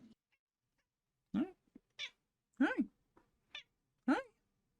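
A house cat meows several times at close range with short pauses between calls, during a podcast recording, with brief background voices.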